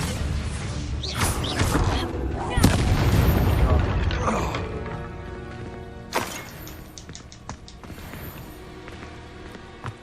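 Confringo blasting spells in the Hogwarts Legacy video game set off loud explosions and crashing debris, a heavy rumbling burst early on followed by sharper scattered impacts and clattering that fade, with a voice briefly heard.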